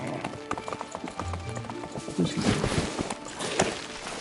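Game horse hooves clip-clop in a steady, brisk rhythm in the horse-riding game Disney Dreamlight Valley Wishblossom Ranch, close and fairly loud, mixed with soft splashy and rustling effects.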